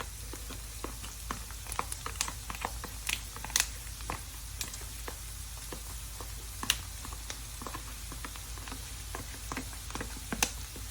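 Pancetta sizzles in a pan with golden onions for an Amatriciana sauce, a quiet, steady crackle dotted with sharp spits and pops scattered irregularly throughout.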